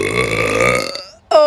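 A long, loud, voiced burp with a rumbling harmonic tone lasts about a second, then trails off into a brief pause before a sharp vocal exclamation cuts in.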